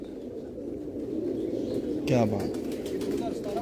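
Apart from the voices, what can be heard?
pigeon cooing, a mistri-type racing pigeon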